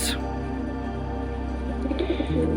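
Pigeons coo softly in a loft where a pair of black fantail pigeons is kept, with low, steady murmuring cooing under a continuous hum of background noise.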